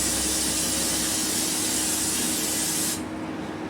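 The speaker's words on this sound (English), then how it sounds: "So I'm going to spray the outside edges and then across the center," Cooking spray hisses loudly and continuously from a can onto a sheet pan at close range, then stops abruptly after about three seconds, leaving faint background noise.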